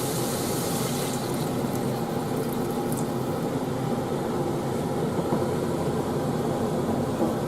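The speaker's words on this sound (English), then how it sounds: "We also need to pour the water in." Water poured into a cooking pot of tomato-sauced Brazilian shrimp soup, a steady close splashing and filling rush with a steady background hum.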